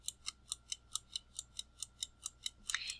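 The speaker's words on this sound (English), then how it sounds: "Can you hear it going tick, tick, tick, tick, tick?" A ladybug kitchen timer ticks in a quick, steady rhythm, a dozen crisp clicks close up, ending in a brief scraping rattle.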